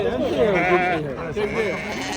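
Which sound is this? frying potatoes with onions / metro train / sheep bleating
sheep bleating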